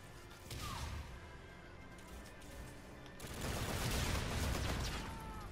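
Gunfire in Call of Duty: Infinite Warfare, a dense rattle of rapid shots and impacts that swells louder midway, mixed with clatter and whooshes of a busy firefight.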